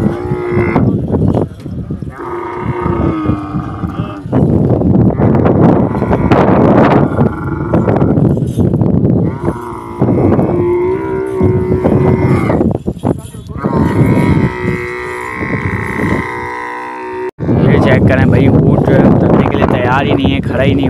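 Camels being unloaded at a camel market let out loud, repeated groaning bellows that rise and fall across the whole stretch, with voices talking nearby and a short pause near the end.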